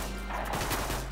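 Rapid gunfire in Tomb Raider Legend as shots smash objects, a short burst of loud overlapping reports over steady game background.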